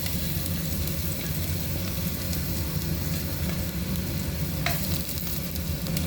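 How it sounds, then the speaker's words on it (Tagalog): Garlic and ginger stir-fried in a hot pan, a steady dense sizzle with faint scraping of the spatula running the whole time at close range, no voices. "Tapos stir fry na lang. Isa na natin sa bawang at saka ginger."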